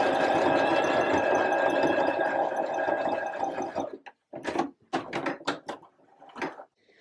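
A sewing machine top-stitches a reversible tie-back top, running in a steady close whir for about four seconds before stopping, followed by several short, separate bursts of stitching.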